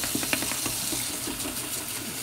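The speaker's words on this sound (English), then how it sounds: "So I want to give this brush a wash and a severe flogging" An acrylic paint brush being swished and sloshed about in water to clean it between colours, a close, continuous splashing with a faint hiss and no voices.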